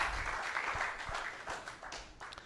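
Applause from a church congregation at Oasis de Paz in Houston, Texas, a soft wash of clapping heard at a distance, brief and fairly faint.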